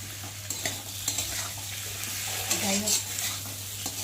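A spice paste with ginger and garlic fries in a pan for an omelette, giving a steady close sizzle with occasional stirring scrapes, over a low background hum and a brief spoken phrase.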